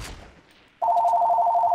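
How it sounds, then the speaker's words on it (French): An in-game telephone in Fortnite starts ringing after a brief quiet moment, a loud, close, rapidly trilling electronic bell that continues steadily to the end. "Qui c'est qui peut téléphoner à ce temps?"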